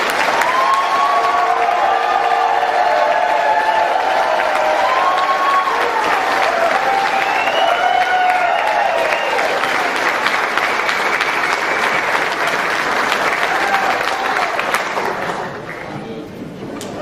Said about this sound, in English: Maybe they'll come out for one more if we ask really nicely and applaud really loud.